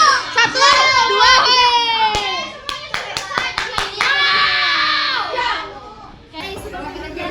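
A group claps the tepuk semangat rhythm in a school guidance-counselling class simulation. Sharp, patterned claps ring out together, with excited young voices chanting and calling over them throughout.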